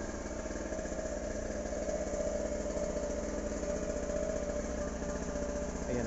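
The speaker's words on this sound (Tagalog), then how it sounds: "Pwede na raw patayin ng generator." A generator runs steadily nearby at an outdoor work site, a continuous droning engine hum with even, unbroken loudness throughout and no talk over it.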